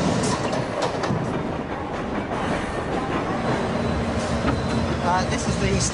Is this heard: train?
yes